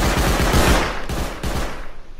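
An auto turret in the Rust video game sprays loud rapid gunfire in a fast rattling stream, with a short pause and then two more bursts at close range.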